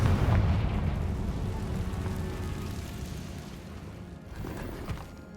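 A fiery blast from the Confringo spell in Hogwarts Legacy, a heavy booming burst that fades into a rumbling crackle, followed by a smaller secondary thump near the end.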